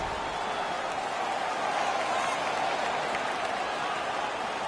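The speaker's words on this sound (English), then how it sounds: "The crowd is ecstatic." A hockey arena crowd roars after a fight in a Hartford Whalers vs Minnesota North Stars game, a continuous loud wash of cheering and applause that swells slightly midway.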